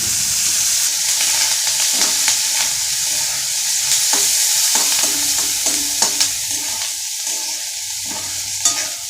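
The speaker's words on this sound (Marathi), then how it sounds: "मिरची पण चांगली तेलात भाजायची, जिरं मोहरी वगैरे सगळं टाकायचं." Onion, green chili, cumin and mustard seeds fry and crackle in hot oil for upma, with a constant bright sizzle and intermittent scraping stir strokes in the pan.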